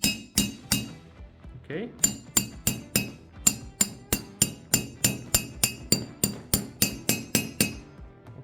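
Metal wrench clinking rapidly against a Mazda 6 rear brake caliper with handbrake, a fast steady run of bright, close tapping strikes with a brief pause near the start; a voice speaks a single word.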